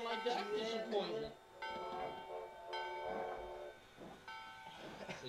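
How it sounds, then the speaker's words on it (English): A city train in the horror adventure game Echo Night, with several ringing, bell-like tones and a low rumble arriving in spaced bursts over roughly five seconds, fairly quiet, with talk mixed in. "City train."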